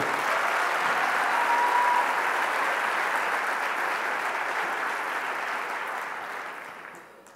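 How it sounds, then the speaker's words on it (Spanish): A crowd at a municipalist political rally applauds loudly and steadily, the clapping tapering off toward the end. "Un, aplauso muy fuerte para él."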